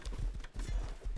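Armored horse hooves clip-clopping in the Rust video game, a quick regular gallop of heavy low thuds, close and steady, with faint background game ambience.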